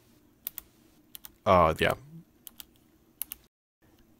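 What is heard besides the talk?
typing on Razer Ornata mechanical keyboard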